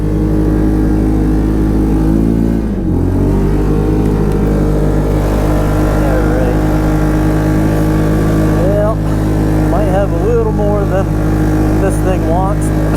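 A Polaris ACE 570 engine drones loud and steady while driving off-road over thin snow, the pitch dipping briefly under engine braking before holding on, with someone speaking over it.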